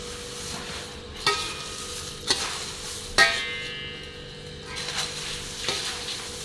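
Poha chivda is tossed and stirred in a pan, a soft dry rustle under a faint sizzle, punctuated by a few sharp scrapes and knocks of the spoon spaced about a second apart.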